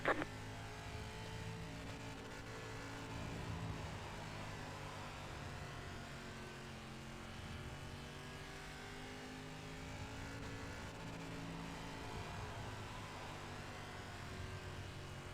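Limited Late Model race car in iRacing, its engine droning continuously at high revs with slowly rising and falling pitch through a lap, steady and close, no voices.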